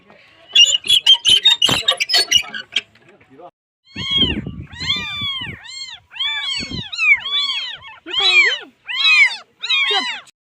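Several cats meow repeatedly in close succession, loud and near, after a burst of clattering and rustling at the start.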